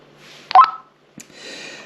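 A Retevis RT49P walkie-talkie powers on after a long press, giving a short cluster of bright electronic beeps, then a brief click and a softer sustained tone, close and clear with no talking.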